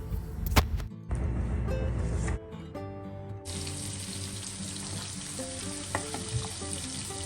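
Carrot and chicken pieces cook in a home pan, a steady frying hiss with stirring scrapes, joined by water running nearby, loud and close with no talk.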